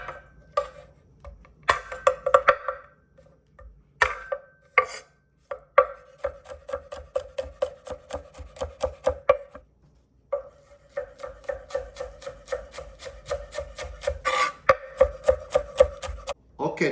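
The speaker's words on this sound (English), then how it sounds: "now we start the chop of the garlic." A knife chops garlic on a cutting board in rapid, crisp, rhythmic bursts of close taps, with a few short pauses between runs and no voice.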